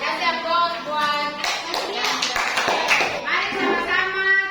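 Children applaud together in a classroom, a dense run of hand claps that carries steadily throughout, mixed with young voices chattering and calling out.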